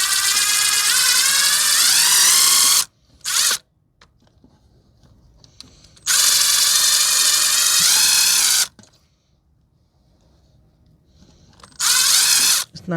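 Power tool whirring loudly in three separate bursts, each a few seconds long with brief pitch shifts, as it scrubs rust off the ABS sensor mount of a 2012 Toyota Corolla 1.8, with quiet pauses between bursts.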